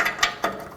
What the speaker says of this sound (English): you can use a 7/8 wrench or a O2 sensor socket